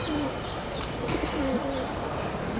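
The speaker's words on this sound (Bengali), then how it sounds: "দেখেন নটটা ডাকতেছে, মানে জোড়া নিয়ে নেবে," A male teddy golden pigeon coos close by in a few soft, low, rolling calls against a faint background hum.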